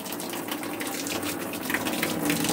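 A shower fed by an off-grid rainwater catchment system runs with a steady hiss and splash of water, moderately faint and continuous, with no voices.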